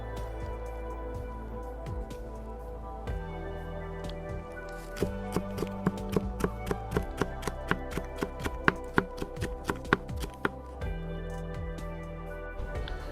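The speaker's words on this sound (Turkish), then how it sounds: "Bunları da ufak ufak ince ince kıyıyoruz." A knife chops fresh village peppers on a board outdoors, starting with scattered cuts and building into a quick, steady run of crisp taps close by.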